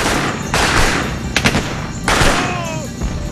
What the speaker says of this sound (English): the SAS forward observation teams break cover and open fire.